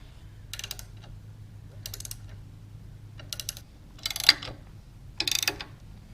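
A ratchet with a 9/16 socket tightens nuts on bolt-on steps for a Deere 1-Series 260 backhoe, giving five short bursts of rapid clicking separated by quiet pauses, close and fairly faint.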